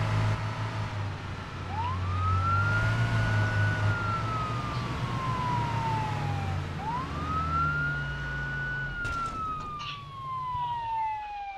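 Police car siren in the video game Arma 3, wailing in two long rising-and-falling sweeps, loud and close, over a low engine rumble, with no one talking.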